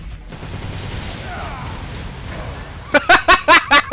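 Rockets fire at Vergil in the video game Devil May Cry 5: a rapid, loud volley of about six sharp blasts in the last second, after a steady low rumble of game ambience.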